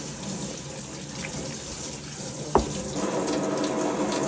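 Water poured into a pan of fish paksiw (vinegar-braised fish stew), a steady close trickling wash with a brief splash midway, no talking.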